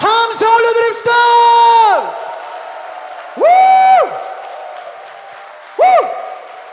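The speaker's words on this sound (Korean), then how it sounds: "우리 주님께 더 큰 영광의 박수와 함성 올려드립시다" A church congregation at a Friday prayer meeting with worship singing cheers loudly. Long, ringing shouted whoops rise and fall in three separate bursts, and applause is barely evident beneath them.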